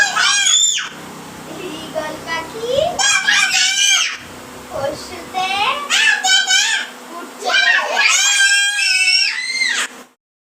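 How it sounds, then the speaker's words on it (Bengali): Two young sisters recite their lessons at home in loud, shouting voices, the high strained chanting running almost continuously and close up for about ten seconds before stopping abruptly. "ওরা দেখো কেমন চিৎকার করে পড়াশোনা করছে"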